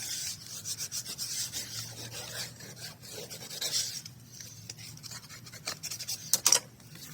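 Burnishing paper pressed down onto a craft page gives soft, close rubbing and scraping strokes, irregular and quiet, ending in a couple of sharper rustles.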